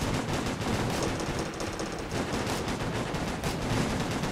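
Dense, continuous gunfire in a firefight in the video game Operation Flashpoint: Red River, with overlapping automatic bursts and single shots cracking without a break, loud and close.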